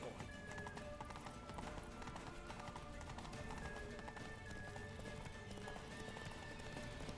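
Horse hooves in the video game The Witcher 3, a quiet, steady clip-clop of hoofbeats with game ambience and a faint tonal hum, voices present at a low level.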